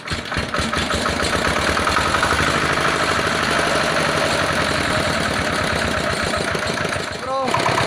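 An old Sumo diesel generator engine catches and settles into a loud, steady, rhythmic idle, its knocking clatter continuing close by, with a brief clunk near the end.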